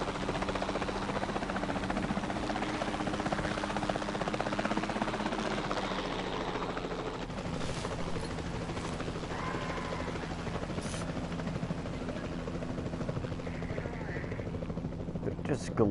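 Rotor hum of a helicopter in Jurassic World Evolution 2 runs continuously as game audio, with a person talking over it through the first half before the steady drone carries on alone.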